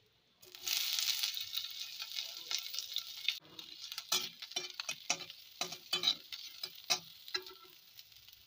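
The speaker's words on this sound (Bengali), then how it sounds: "তেলটা গরম হয়ে গেছে। ফোড়নে দিলাম আমি সরষে" Mustard seeds and a dry red chili hit hot mustard oil in a pan and sizzle sharply, then settle into a quieter crackle with scattered pops and spits, close up, with no voices.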